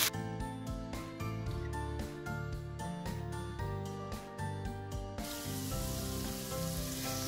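Chicken breast frying in a pan sizzles steadily while curry powder and paprika are stirred in, under a continuous bed of background music.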